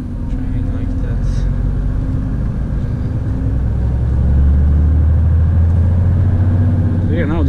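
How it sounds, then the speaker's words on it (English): A Volvo FM 440 truck engine with turbo rumbles loudly and steadily from inside the cab, its low drone swelling slightly as it works, with people talking over it. "Yeah, now the turbo works great."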